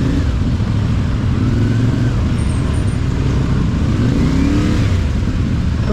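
A 450cc big bike motorcycle rides through city traffic in Pasig City, a loud steady engine drone mixed with road and wind rumble, no voices.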